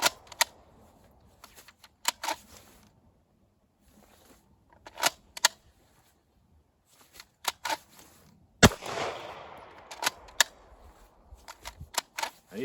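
Pistol shots fired at a shooting range, fitted with a red-dot sight and drawn from an Alien Gear Rapid Force duty holster: sharp cracks fall in quick pairs and short strings separated by pauses, with one louder, echoing report partway through.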